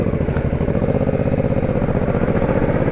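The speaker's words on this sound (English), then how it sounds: "A little bit of engine growl" A Honda Shadow 1100 motorcycle engine growls steadily up close, a loud, even, low throbbing pulse that holds without a break.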